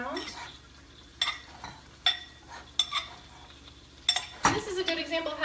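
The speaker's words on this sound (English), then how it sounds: "And stir that around." A spoon stirring a breakfast scramble mixture with lemon oil in a pan, giving several separate metallic clinks and scrapes over a quiet, low sizzle. Each stroke is close and distinct.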